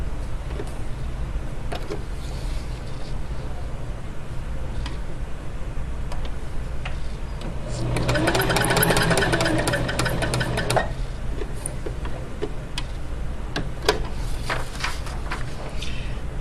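A sewing machine stitches a triangle on paper, a quiet steady mechanical hum with a louder burst of rapid needle ticking in the middle, under a constant background drone.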